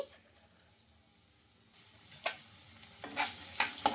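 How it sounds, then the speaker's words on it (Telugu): Chicken keema frying in a pan, stirred as it cooks: a quiet low sizzle at first, then a run of louder scraping stirs and spatula knocks building toward the end, with no talking. "బాగా ఫ్రై చేసుకోవాలి వీళ్ళన్నీ బాగా కలిపేసుకున్న తర్వాత పచ్చివాసన పోయే వరకు అయితే ఒక నిమిషం పాటు ఉడికించుకోవాలండి"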